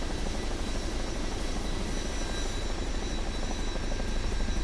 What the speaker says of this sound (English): we can now fly the Chinook properly